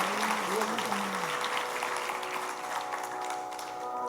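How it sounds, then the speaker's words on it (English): Audience applause at a bharatanatyam arangetram, a dense, steady wash of clapping held at an even level throughout, with faint tonal sounds underneath. "How about another round of applause for that amazing opening piece?"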